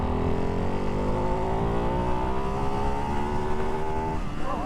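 A 2024 Ducati Hypermotard 698 Mono RVE single-cylinder motorcycle accelerates hard on an open road, its loud engine rising steadily in pitch through the gear under heavy wind rush, close to the rider.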